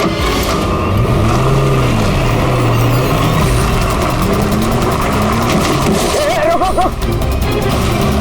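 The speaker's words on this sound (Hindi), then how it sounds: "गाड़ी रिवर्स ले।" A car engine roars close and loud as the vehicle reverses and then speeds off, a continuous revving drone with rising and falling pitch and some background commotion.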